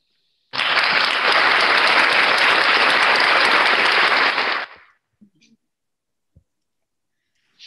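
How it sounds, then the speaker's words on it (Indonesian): Webinar audience bursts into loud, dense applause that holds steady for about four seconds and then cuts off sharply, leaving near silence with a few faint clicks. "Saya beri aplaus yang meriah"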